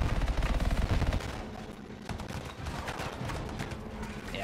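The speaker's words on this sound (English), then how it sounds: "I can shoot some bad guys from here." Rapid long-range weapon fire in the sci-fi shooter Anthem, a loud automatic burst at first, then scattered shots and explosions continuing through the battle noise, with no talking.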